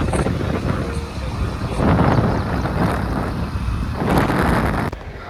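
Steady, loud wind buffeting a microphone on a motorbike ride toward Patan, with the roar of the moving bike beneath it, swelling and easing in gusts throughout and dipping briefly near the end.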